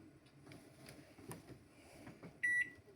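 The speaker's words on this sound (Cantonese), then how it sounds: "撳微波爐嚟，然後再1分鐘，跟住就可以撳開始啦。" A microwave oven baking an Oreo cake in a mug hums quietly with faint clicks, followed by a short electronic beep from its keypad near the end.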